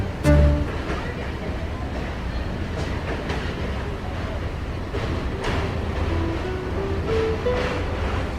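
A local train in Bengal rolls along with a continuous rumble and rattling from the cars, heard from on board, with a brief horn-like tone near the start.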